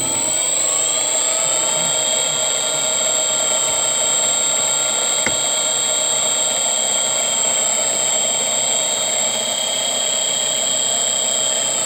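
A Sieg mini lathe runs a first facing cut across a rough bandsaw-cut face, giving a steady, loud, whining machine drone with constant tones that holds unbroken throughout, with no talking.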